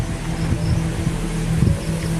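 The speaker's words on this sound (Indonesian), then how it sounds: "ya Allah, nih angin kencang nih." Strong wind roars steadily around the recorder during stormy, overcast weather, a dense continuous rumble with gusty buffeting and no speech.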